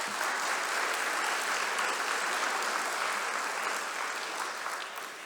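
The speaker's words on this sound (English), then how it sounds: "Big round of applause for Dr. Dennis." Sustained applause from a large audience at a university white coat ceremony, dense even clapping filling the room throughout and easing slightly at the end.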